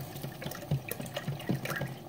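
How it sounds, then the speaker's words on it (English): Vegetable broth pours into a pot for a sweet potato and carrot soup, a soft continuous liquid splash with small gurgles, faint and close. "I'm going to be adding to this is 2 cups of vegetable broth"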